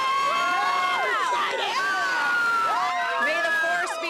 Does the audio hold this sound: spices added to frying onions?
no